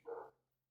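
A dog gives a single short, faint bark at a distance indoors, followed by quiet.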